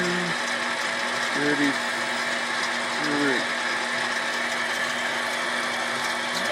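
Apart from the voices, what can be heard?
metal lathe cutting threads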